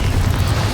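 A Confringo fire-blast spell from Hogwarts Legacy bursts as a short, loud, low rumbling boom that fills the whole brief moment.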